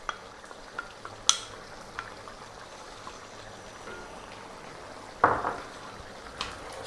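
Tomato paste is stirred into a lamb and potato stew, producing a soft, wet bubbling and scraping in the pot with occasional louder spoon knocks against the side.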